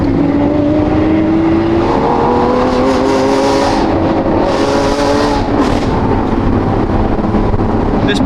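An STO supercar's engine drones loudly and continuously while driving, its pitch climbing gradually and then holding steady, with no voices present.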